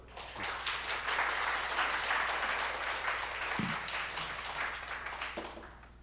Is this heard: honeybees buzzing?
no